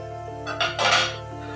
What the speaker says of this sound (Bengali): এবারে চাপাটা খুলে নিচ্ছি